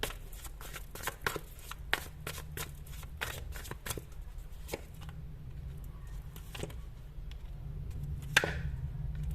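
Tarot cards are shuffled and drawn, a close run of quick riffling slaps and flicks in uneven bursts, thinning out toward the end with a last sharp snap, with no talk over it.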